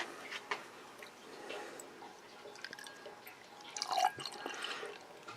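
Moo Joos oatmeal milk stout beer poured hard from a bottle into a glass, a soft continuous liquid splash with dripping and gurgling ticks, close and fairly quiet, swelling briefly near the end.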